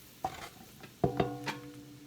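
Chicken frying in bacon grease while being stirred, giving a few scraping, clattering stirs over a soft steady sizzle close by.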